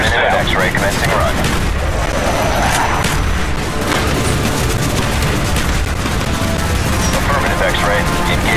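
Dense, continuous gunfire and heavy booming from an aircraft strafing run in Call of Duty Black Ops, loud and sustained throughout with explosive rumble underneath.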